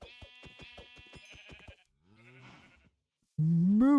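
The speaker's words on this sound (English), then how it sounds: "Hi, Mr. Coos and sheeps." Sheep in the Minecraft video game bleat in a quick rhythmic series of short bursts, then a wavering bleat, followed by a louder, sustained rising bleat close by.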